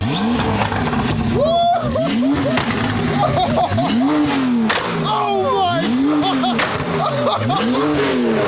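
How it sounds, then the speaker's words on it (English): A loud Porsche 992 sports car engine revving hard in repeated rising sweeps through a titanium race exhaust with drone tubes, with a harsh, raspy exhaust note crackling between blips. "fitted an ES Motor lightweight titanium race exhaust with the all-important drone tubes, making it sound absolutely savage"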